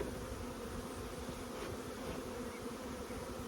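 Continuous low buzzing of a bee swarm, a steady droning hum with no voices, fairly quiet and even throughout.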